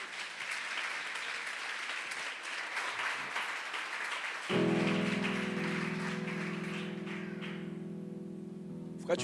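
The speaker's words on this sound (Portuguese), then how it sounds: "Vamos dar um aplauso ao Senhor." A church congregation claps for about four and a half seconds, a dense patter of many hands. Then sustained organ or keyboard chords with a steady hum take over as the clapping thins.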